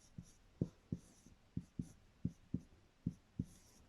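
Equations handwritten on a surface, heard as about ten quiet, close, separate strokes and taps in an uneven rhythm, with no voice over them.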